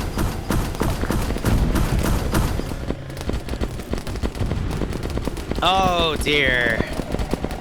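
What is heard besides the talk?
gunfire in a Starship Troopers video game battle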